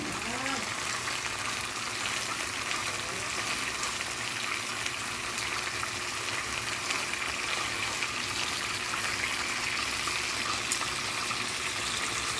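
A thick-cut, somewhat fatty pork chop fries in a pan with a steady, even crackling sizzle that continues without a break, close and moderately loud.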